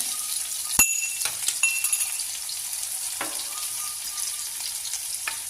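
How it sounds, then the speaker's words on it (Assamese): Crushed garlic frying in a pan for a brinjal and fish curry, giving a steady close sizzle broken by sharp clinks and scrapes from stirring. "ধুনীয়াকৈ অকণমান ৰঙচুৱা হ'বলৈ ভাজি লওঁ।"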